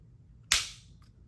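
A single crisp, sharp dry-fire trigger click from an unloaded Shadow Systems MR920 pistol, close and clear with a short decay, followed by a faint tiny reset tick.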